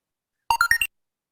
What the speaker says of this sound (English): That was your timer?